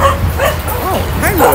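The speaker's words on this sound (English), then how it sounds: "Oh, hi, little puppy." A small puppy yips and whimpers close by in a short burst of rising and falling high-pitched cries, with a person talking over it.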